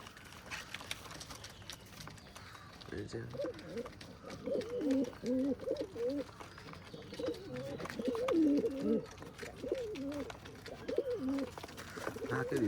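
Pigeons coo in repeated soft, throaty phrases close by, rising and falling in a steady rhythm over faint background noise.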